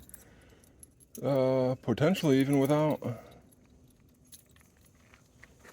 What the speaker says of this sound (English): Gotta grab the keys out of my pocket so I can have ignition.